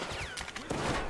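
Bursts of gunfire from the video game Metro Exodus, several quick shots in a short volley at moderate loudness with no talk over them.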